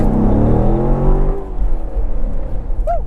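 A Chevrolet C7 Corvette sports car with an automatic transmission pulls hard, its engine revving loudly with a rising harmonic whine that smooths into a steady road rumble, heard alone without voices.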